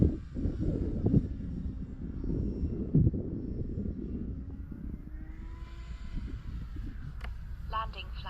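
E-flite Cherokee 1.3m scale RC plane flying, its propeller droning steadily with a buzzing vibration and wind rush, the pitch rising near the end as it passes, with some faint voice-like murmur underneath.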